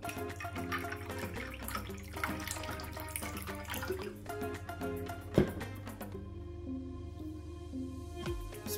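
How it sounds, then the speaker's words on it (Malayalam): Water is poured into lemon squash, making a soft trickling, splashing stream that is fairly faint, with tonal music playing quietly underneath. "ഇനി നമുക്കിതിലേക്ക് വെള്ളം ഒഴിച്ചു കൊടുക്കാം."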